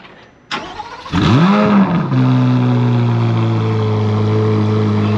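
A Corvette C8 Z06 engine cranks and fires, surges in a quick rev, then settles into a loud, steady throaty idle up close.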